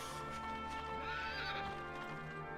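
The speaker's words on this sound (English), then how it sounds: "A horse." A horse in the Dragon Quest VIII PlayStation 2 game whinnies over rhythmic clip-clopping hooves, with game music running steadily underneath.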